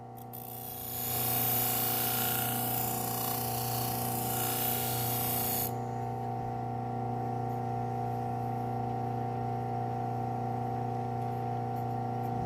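A hunting knife edge is deburred and polished against a steady machine hum, with a rough, loud grinding hiss for the first few seconds that then falls away, leaving the even drone alone.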